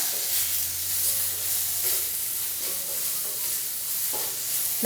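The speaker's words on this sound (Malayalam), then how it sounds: "തക്കാളി ചേർത്ത് കൊടുത്ത ശേഷം നല്ല രീതിയിൽ തന്നെ എല്ലാം ഒന്ന് വഴറ്റി കൊടുക്കാം" Chopped tomato and onions sauté together in a pan for a spicy egg chilli. The sizzle is steady and even, with faint stirring scrapes underneath and no talking.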